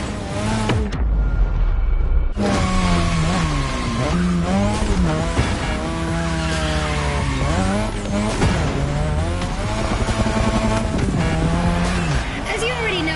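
A car drifting around the drift track in The Crew Motorfest, with a steady loud engine roar whose pitch rises and falls through continuous tyre-squeal runs and skids, and a voice speaking over it throughout.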